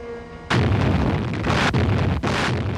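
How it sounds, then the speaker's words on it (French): Naval cannon fire at Dakar, three heavy booming blasts in quick succession, each followed by a rumbling roll, loud and close. "Devant Dakar, la flotte est reçue à coups de canon et l'opération échoue."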